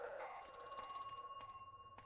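A payphone rings in the Crow Country survival horror game, a steady electronic bell trilling in repeated pulses, moderately loud and alone, with no talking.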